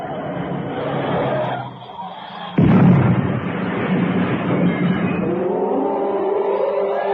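A sudden loud car-crash impact bursts out amid engine noise and voices in an old radio drama, then the scene continues with steady rumbling and talk.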